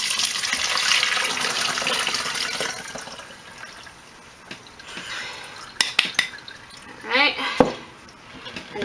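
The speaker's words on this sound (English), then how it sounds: "So we're gonna go ahead and strain this." Water kefir poured through a metal strainer, a steady splashing trickle of liquid followed by scattered drips and clinks as the flow tapers off.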